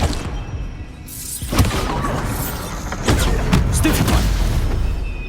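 Bombarda spell explosions in the video game Hogwarts Legacy, with a heavy boom and crackling debris followed by further blasts and impacts over a dense, loud rumbling combat background.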